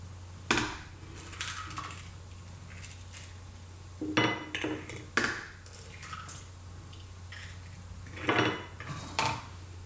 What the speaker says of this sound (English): whisk together the 2 eggs